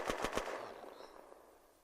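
An automatic K rifle fires in the Unturned video game: three quick, sharp shots in a fast burst, then a fading echo tail. Fairly quiet overall, with no talking.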